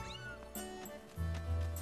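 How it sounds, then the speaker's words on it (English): A cat meows in the game The Legend of Zelda: Skyward Sword, a short tonal call heard alongside game music and chimes, moderately loud and close. "Here's a cat! Meow!"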